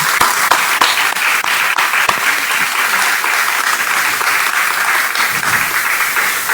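An audience at a Spanish-language book launch for a novel applauds a doctor: sustained, fairly loud clapping from a room full of people, with a few sharper individual claps standing out, lasting the whole stretch.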